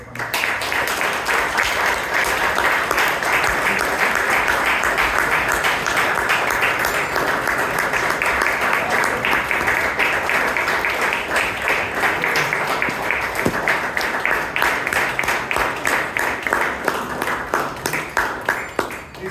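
Sustained applause from the audience at a Bangalore Toastmasters club meeting, dense, even and fairly loud, running unbroken for close to twenty seconds before tapering at the end.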